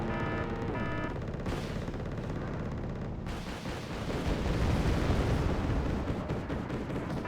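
Armored VAB vehicles being destroyed in Wargame: Airland Battle, a dense, rumbling mix of explosions and rapid gunfire that swells louder in the second half.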